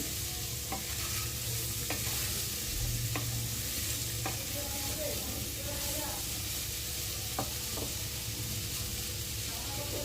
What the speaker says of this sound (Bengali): বিট, গাজর, আলু সব একসাথে ভালোভাবে ভেজে নিচ্ছি।